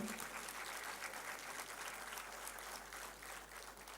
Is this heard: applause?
yes